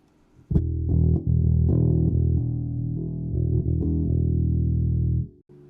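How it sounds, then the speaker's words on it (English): A left-handed Harley Benton bass guitar plays a slow, uneven line of sustained low notes with audible plucks and slight stumbles between them, loud and close, with no talking. "I did practice left hand playing, but it sounds a bit like this."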